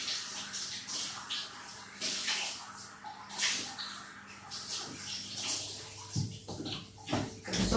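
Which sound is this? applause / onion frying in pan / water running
water running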